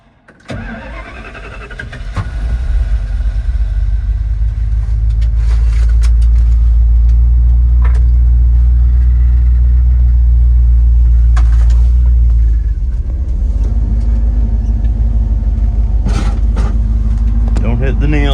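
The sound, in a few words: 1970 Ford Maverick engine running in the snow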